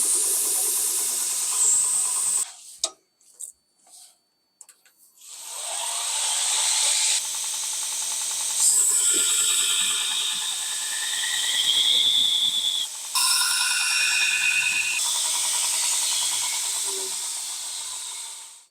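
Bevels being ground onto a Damascus steel knife blade: a loud, sustained grinding hiss with shifting pitch runs through long passes, broken by a brief few seconds of near quiet early on.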